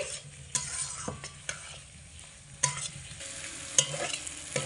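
Potatoes being sautéed in a spice masala over medium heat for an Indian vegetarian curry: a steady sizzle with scraping stirs and a few sharp utensil knocks against the pan, close and alone without talk.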